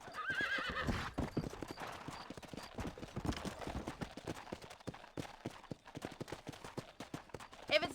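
A horse in the Red Dead Redemption video game whinnies near the start, then trots on with a steady, close clip-clop of hooves over open ground, fairly quiet overall, with no talk.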